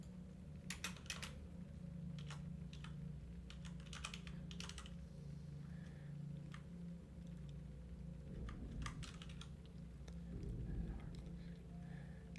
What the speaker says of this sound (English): Now that I'm typing it, it makes it a little bit easier.